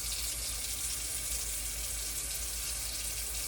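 Warm water runs from a kitchen or bathroom tap into a sink, a steady, close splashing rush that continues evenly without pause.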